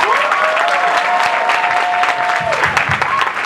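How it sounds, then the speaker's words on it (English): An audience at the Florida SuperCon fan convention panel applauds, a dense, steady wash of clapping that fills the whole moment, with a voice briefly carrying over it. "let's give a round of applause"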